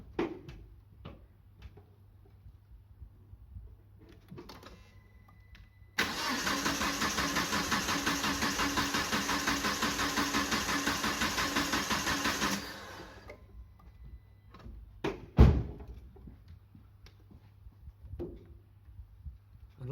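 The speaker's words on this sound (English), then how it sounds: "now I will crank the engine" A Peugeot 308 1.6 petrol engine cranks over on the starter during a compression test, a loud, steady, rapid churning that runs for about seven seconds and then stops, with quieter workshop clicks and knocks before and after.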